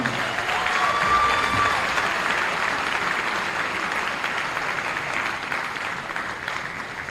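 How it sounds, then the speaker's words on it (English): Audience applause at an All-Star season awards ceremony, a steady wash of clapping from a large crowd that holds strong throughout and eases slightly toward the end, with no talking over it. "one more round of applause for all of our award winners tonight."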